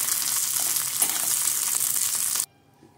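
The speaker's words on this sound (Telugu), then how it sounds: "మనకి ఎంత స్పైసీ కావాలో అంత ఇలా పచ్చిమిరపకాయలు ఫ్రై చేసుకోవాలి" Green chillies fry in oil over a low flame for chicken biryani, giving a steady close hissing sizzle that cuts off abruptly near the end.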